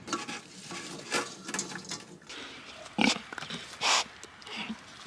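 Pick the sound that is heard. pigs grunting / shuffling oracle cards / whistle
pigs grunting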